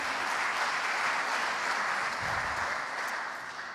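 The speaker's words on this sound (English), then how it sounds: "So big applause for Louis." Audience applause at an HbbTV technology symposium and awards event, a dense steady wash of clapping from a large room that carries on evenly for several seconds, then eases slightly near the end.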